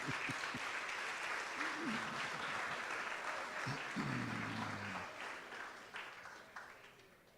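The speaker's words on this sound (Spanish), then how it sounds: "Vamos a darle un aplauso al Señor" A church congregation applauds steadily, with a dense patter of clapping that gradually fades toward the end while voices call out underneath.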